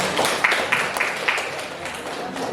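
A ninth-grade civics class applauds together in the classroom, a short burst of group clapping with a few sharper individual claps standing out over light chatter.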